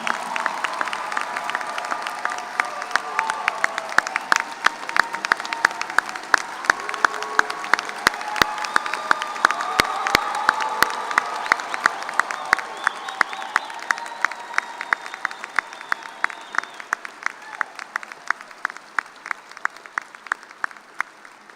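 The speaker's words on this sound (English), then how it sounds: "One more round of applause. Let's get on our feet for the class of" A crowd at a spring 2024 veterinary medicine commencement gives the graduating class a long, loud standing ovation of dense applause and cheering, tapering into scattered, rhythmic claps by the end.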